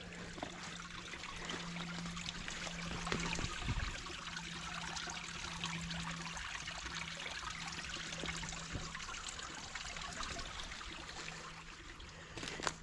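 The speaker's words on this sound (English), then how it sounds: "Made a little waterfall." Small waterfall trickling over a dam of debris in a muddy woods stream, a steady continuous splash and gurgle close by with a faint low hum running underneath.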